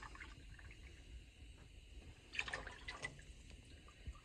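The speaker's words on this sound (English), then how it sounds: "now we're going to put in our milk" Milk pours into a pot of potato soup with soft splashing and gurgling. It sounds faint and close, with a brief louder burst of liquid in the middle.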